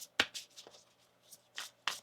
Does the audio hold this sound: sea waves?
no